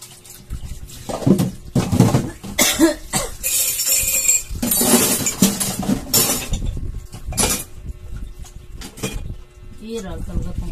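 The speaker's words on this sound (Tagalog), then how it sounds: "Hirap talaga itong ubo ko, di pa rin talaga gumagaling" A person with a lingering, unhealed cough coughs in several harsh bursts in a home kitchen, mixed with clinking dishes, cutlery and running water, with talking in between.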